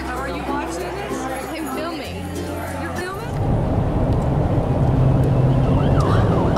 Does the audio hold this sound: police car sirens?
yes